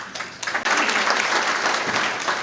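Audience applause fills a chamber of commerce economic club luncheon in Lansing, Michigan: dense, steady clapping from a crowd that holds at an even level throughout.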